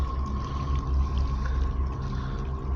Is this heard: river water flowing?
yes